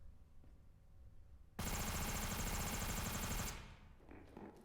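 Val rifle in a video game fires a sustained full-auto burst of close, loud, rapid shots for about two seconds, breaking abruptly out of quiet background and cutting off into faint scattered sounds.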